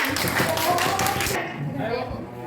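Students in an Indonesian classroom clap for a student group during a lesson. A brief burst of lively clapping with voices mixed in breaks off abruptly after about a second and a half, leaving quieter room sound.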